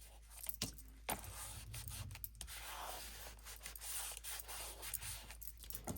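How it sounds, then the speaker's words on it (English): Paper pieces for a Christmas mini album are burnished firmly together by hand, giving soft close rubbing and scraping strokes in short bursts with brief pauses. "And we burnish real well."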